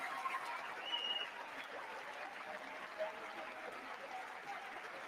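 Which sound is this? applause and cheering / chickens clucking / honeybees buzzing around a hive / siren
applause and cheering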